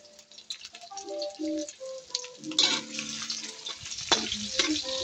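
Ingredients for chop suey hit a hot pan and start sautéing, a burst of sizzling with scraping and clattering over background chatter from a television.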